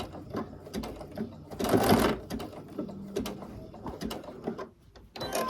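Sewing machine stitching an appliqué quilt border, an uneven run of mechanical whirring and needle chatter that swells briefly louder near the middle, close up and without speech.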